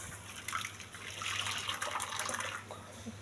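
Water trickles and gushes while being poured into thick homemade grape juice through a strainer, a soft, close, uneven splashing that runs without pause and without speech.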